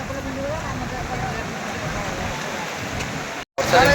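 Steady, dense hiss of heavy rain falling on a crowded beach at Puri, a constant broadband wash close by, with a voice talking over it and a brief dropout near the end.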